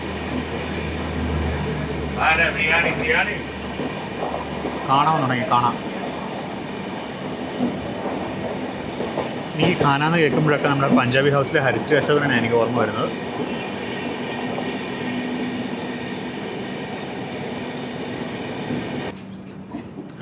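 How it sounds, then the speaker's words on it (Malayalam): Steady rumbling of a train in motion, heard from on board the Sampark Kranti, with continuous wheel and carriage noise while someone speaks over it at length. "നമ്മുടെ യോഗ്നഗരി ഋഷികേശ് എക്സ്പ്രസ് ഇതുവഴിയാണ് പോകുന്നത്"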